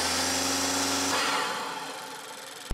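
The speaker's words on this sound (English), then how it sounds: "A short ram intake will boost that whooshing noise that you get from the turbo once that turbo spools up." Turbo spool whoosh from a 10th gen Honda Civic turbo fitted with a PRL short ram intake, a loud steady rush of engine and air noise that eases off and fades after the first second.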